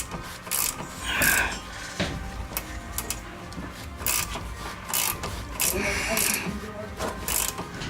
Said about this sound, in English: put your ratcheting wrench on the nut. Hold it down while you turn